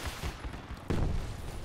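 Gunfire in the Project Reality military shooter game, a muffled burst of shots followed by a louder blast near the end, brief and close.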